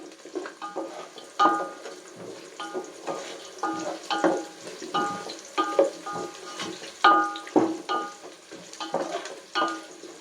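Green chillies and dried red chillies sizzle and fry in hot oil in a pan for prawn biryani, with repeated stirring scrapes and clatter over a steady close sizzle.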